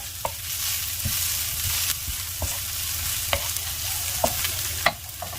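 Garlic frying in a hot pan before prawns go in, a steady bright sizzle running throughout, punctuated by occasional utensil taps and scrapes, close and fairly loud with no voices.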